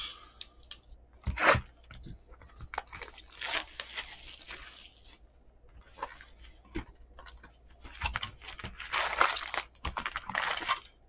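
Crinkling plastic wrap, tearing cardboard and shuffling packs as a 2021 Panini Contenders Baseball hobby box is opened, with irregular close rustles, sharp rips and handling bursts at a moderate level, no talk.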